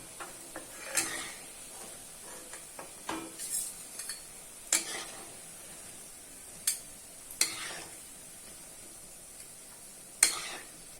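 Fried cauliflower Manchurian balls lifted from hot oil with a metal ladle, producing scattered clinks and scrapes against the pan over a soft background sizzle, with sharp metallic knocks at irregular intervals.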